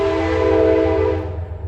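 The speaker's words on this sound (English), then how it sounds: "That's the train." A passing train sounds its horn in a small town, a loud, sustained multi-tone blast over a low rolling rumble that fades out near the end.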